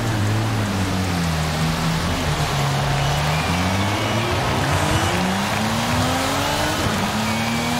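A 1545 HP Lamborghini Sian roars in Forza Horizon 5, its loud engine note rising and falling through gear changes amid dense continuous noise, with no voices over it.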